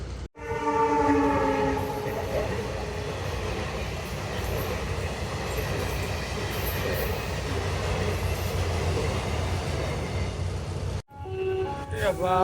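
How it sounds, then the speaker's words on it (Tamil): A train rumbles past a level crossing at close range, a loud horn blaring repeatedly over the steady roar of wheels on rails, then the noise cuts off abruptly near the end. "ரயில் கிராஸ் ஆகிற வரைக்கும் வெயிட் பண்ண வேண்டியதுதான்"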